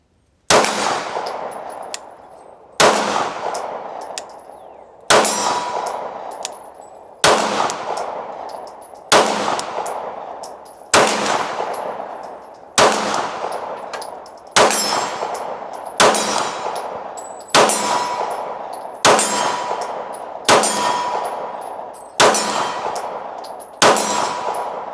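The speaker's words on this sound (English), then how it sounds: "Let's shoot some steel and see what we find out." Iron-sight gunshots ringing steel targets at an outdoor shooting range: about a dozen loud, evenly spaced shots, each followed at once by a bright metallic clang that rings out and fades before the next.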